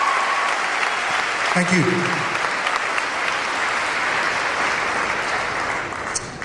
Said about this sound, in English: I need you to give a wild applause to him as he talks to you about honor, invest, connect, and character.